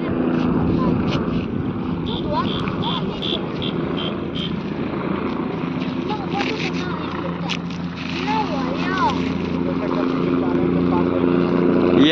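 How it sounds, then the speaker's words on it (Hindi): A helicopter's rotor drones steadily in the background, its low throbbing engine noise continuous, while people talk nearby over it at Bageshwar Dham. "ये देख सकते हैं चला गया हेलीकॉप्टर।"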